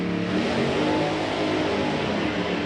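A small drag-racing dragster launches down the strip at Santa Pod, its engine roaring loud and continuous as it accelerates away.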